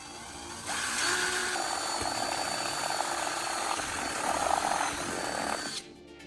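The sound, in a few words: drilling a hole in a signal collecting dish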